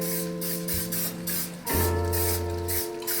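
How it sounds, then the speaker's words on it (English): A steady hiss of cooking spray into a pan on the stove, delivered in a couple of short bursts, with a steady hum running underneath. "We're gonna go ahead and put some cooking spray"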